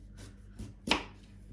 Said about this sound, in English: you're aiming for a thin slice if possible. So be careful of those fingers as you slice it